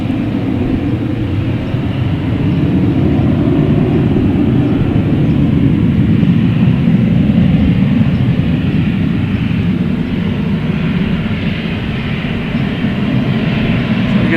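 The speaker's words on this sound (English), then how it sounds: "We have just JetBlue here heading to Nantucket," JetBlue Embraer E190 jet at Boston Logan Airport, a loud, steady low roar of jet engines that swells and holds without a break, with no talk over it.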